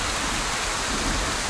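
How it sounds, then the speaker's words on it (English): Rain falls outdoors in the video game Scarlet Hollow, a steady, even hiss with no breaks across the short stretch. "You're outside. It's raining."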